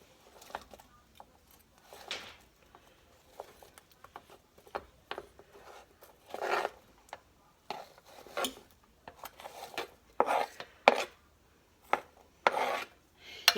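Medium-sized potatoes being cut for a casserole: a knife scrapes and taps against a board and dish in irregular bursts, faint at first and growing louder and busier toward the end, with no talking.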